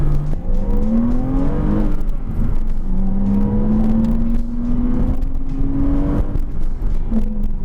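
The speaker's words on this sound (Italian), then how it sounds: "Canta bene questo 6 cilindri boxer." Naturally aspirated 3.4-litre flat-six of a remapped Porsche Cayman S 987, around 315 horsepower, heard from inside while driving: a steady rising engine drone that climbs in pitch through the revs, dips briefly at a shift, then pulls up again.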